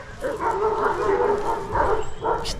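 Several Kangal dogs bark and yip excitedly in short bursts, fairly close, with a voice mixed in, at a Kangal farm.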